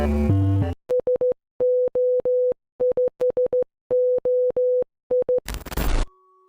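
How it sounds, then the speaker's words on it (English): A video game's main menu theme taps out SOS in Morse code as a clean electronic tone in short and long beeps set to a rhythm, loud and alone, with a burst of noise at the end. "the main menu theme. It's literally Morse code for SOS, but set to a rhythm."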